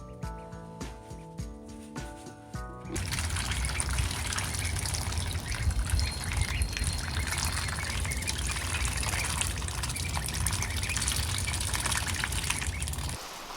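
Rain pouring and dripping through a leaking roof where ducks are kept, a dense, steady watery hiss of falling water that rises abruptly after a few seconds of quieter tonal sound, continuing loud and close.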